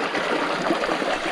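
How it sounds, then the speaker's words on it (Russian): A small stream near the Blue Eye spring in Albania rushes and trickles in a steady, close, fairly loud wash, with no voices over it. "Вот такие, такой ручей, первая преграда, небольшая."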